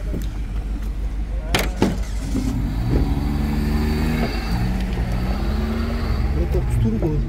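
A turbocharged car engine revs at an outdoor used-car market in Fergana. Harmonic engine tones rise and hold beneath people talking nearby, with background clatter.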